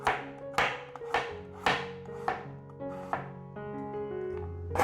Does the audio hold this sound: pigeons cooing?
no